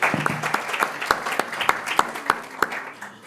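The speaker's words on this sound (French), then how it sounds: "Allez, on peut les applaudir." Audience applause at a bathroom-industry conference, a room of people clapping for presenters in fairly regular, moderately loud claps that fade slightly toward the end.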